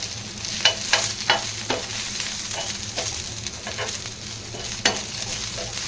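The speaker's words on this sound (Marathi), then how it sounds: "तर हे बघा मिरच्या पण एका साईडला भाजून घेत आहे" Green chilies roast on one side in a pan while a tomato chutney is cooked, giving a steady close sizzle broken by several short scraping stirs, with no talking.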